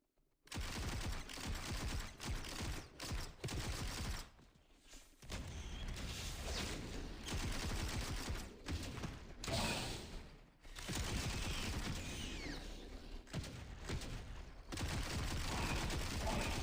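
Shotgun and SMG gunfire in the VR shooter Into Black, loud dense bursts of rapid shots broken by short gaps and blasts, filling most of the stretch.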